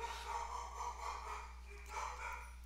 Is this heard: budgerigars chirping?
no